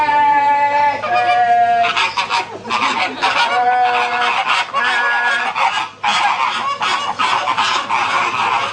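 Flocked flamingos honk loudly and continuously at a live bird show, a dense chorus of overlapping nasal calls with no talk over them.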